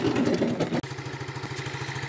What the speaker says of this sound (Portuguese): Ó, a moto já ligada.